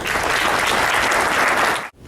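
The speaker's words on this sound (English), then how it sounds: "Raymond, you got more applause than I got." Audience applause at a county district judge candidates forum, a dense burst of clapping held for about two seconds and then cut off abruptly.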